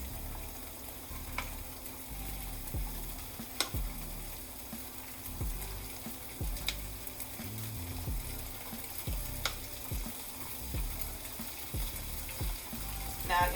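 Seafood frying in a large frying pan, a steady close sizzle and crackle with occasional sharp clicks and tong scrapes, no talk.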